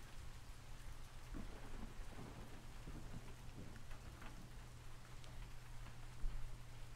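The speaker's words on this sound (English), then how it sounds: "No, it's literally just a little rain sound effect." Steady rain sound effect playing quietly through a livestream, a continuous soft patter with occasional louder drops and a low hum underneath, no talking.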